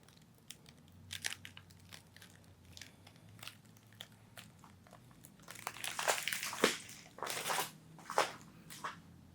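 A plastic bag holding acrylic paint is handled and squeezed, giving soft scattered crinkles that grow louder and busier toward the end, close by and without talk.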